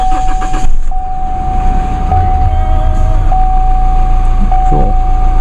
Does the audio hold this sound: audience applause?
no